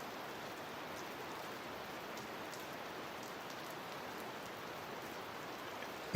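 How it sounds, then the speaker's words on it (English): Synthetic fake rain from a homemade Nintendo 64 game, a steady even hiss of falling drops that holds unbroken at moderate volume with no other sounds. "the rain is real fake rain."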